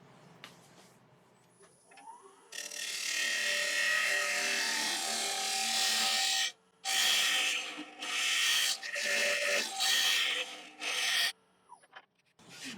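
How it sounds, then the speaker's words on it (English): A Simon Hope negative rake scraper cuts monkey puzzle wood spinning on a lathe, making a loud, steady rasping scrape in long bursts with brief pauses, over the whir of the machine. "I have the Simon Hope negative rake scraper, so I can clean it up a ways with that."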